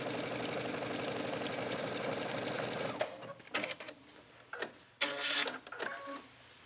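A sewing machine top stitches a skirt hem in a fast, steady mechanical whir for about three seconds, then falls quiet apart from a few brief handling rustles and clicks, close up.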